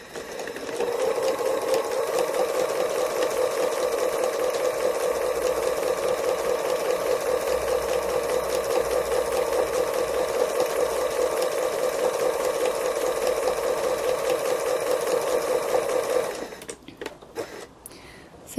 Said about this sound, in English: you know, really, really sew that down